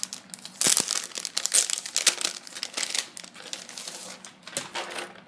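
Dollar Tree planner sticker sheets crinkle and rustle loudly and continuously as they are handled up close, with uneven bursts of crackling and no talking.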